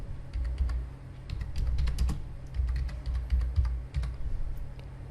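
A computer keyboard is typed on at close range, with quick irregular clicks and taps in short bursts over a quiet low hum.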